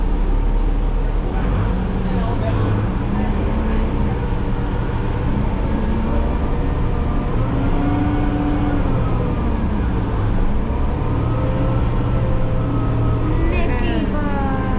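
A Disney bus idles at a red light and then pulls away, its low engine rumble rising steadily as it accelerates from Disney Springs toward the Polynesian Resort. Voices talk faintly through the continuous drone.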